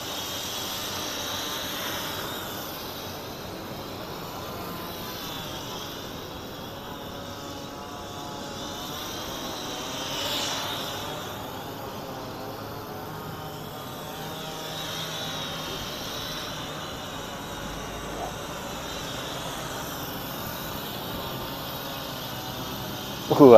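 A mini drone flies in strong wind over the Boyolali circuit, a thin, faint propeller whine drifting up and down in pitch, muffled by steady wind rush.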